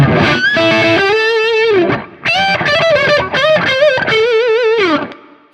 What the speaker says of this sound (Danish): den der neck pick-up med ekstra gain er også bare en klassisk tone